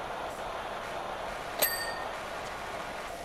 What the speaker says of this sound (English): Need more chimes. Give me more chimes.